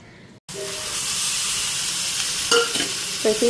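Spice paste sizzles loudly in a hot pan after a brief pause, with a steady hissing fry and a few scraping stirs of a utensil near the end.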